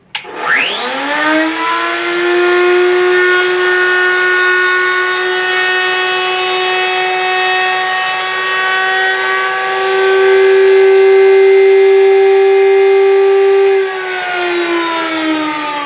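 A router fitted with a quarter-inch round-over bit spins up with a sharp whine and holds a loud, steady, strongly pitched scream for about thirteen seconds while shaping the edge of a wooden tool box, then winds down near the end.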